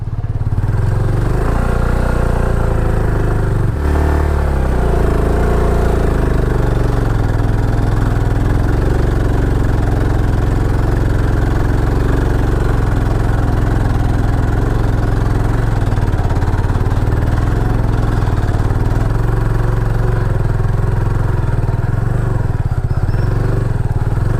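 A motorcycle engine runs steadily in first gear during a solo ride across a sandy sea beach in Odisha, a loud, close, continuous low rumble with slight clatter and no talking.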